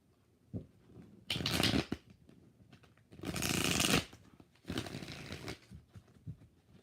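Tarot cards are shuffled in three distinct riffling bursts, close and fairly quiet, with soft handling noises between them.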